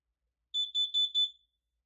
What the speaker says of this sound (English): This one over here is a Kidde KN-COPE-IC.